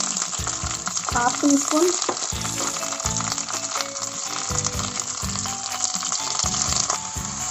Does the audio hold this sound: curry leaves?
yes